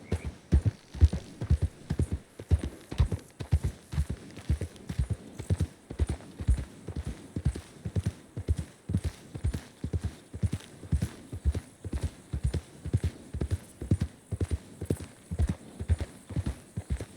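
Horse hooves gallop in steady, fast clip-clop rhythm through Red Dead Redemption 2, each hoof beat close and even, with a faint low hum of game ambience beneath and no talking.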